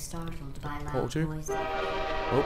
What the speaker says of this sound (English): that was a train, that was quite loud in my eardrums